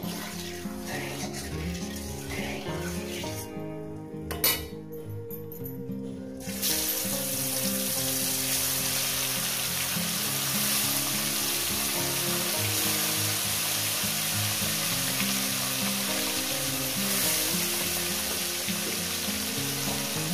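Parshe fish, turmeric-coated, fry in hot oil in a pan, a dense continuous sizzle that swells louder after a brief quieter stretch and a clatter, running steadily with no speech.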